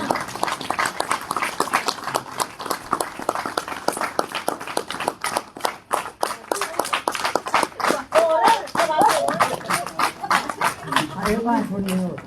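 An audience at a Dogri award ceremony claps in quick, sharp bursts, with speech over the top and a brief stretch of talk near the end.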